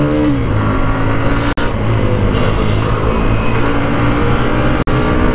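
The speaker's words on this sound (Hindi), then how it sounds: "कर लिया बाइक को स्टार्ट, पहला गियर डाल लिया" A Hero Xtreme 125R motorcycle pulling away in first gear during a ride: a loud, close engine drone with steady harmonic tones and wind rush, briefly cut by two short dropouts, with no talking.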